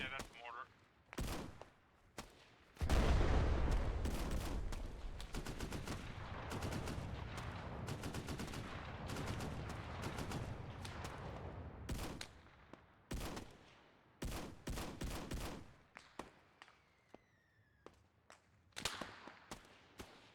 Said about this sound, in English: Yeah, that's mortar.